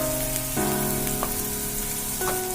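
Onion frying in a pan with a little sugar and turmeric for a Bengali mutton curry, a close steady sizzle with a couple of brief spatula scrapes, no talking.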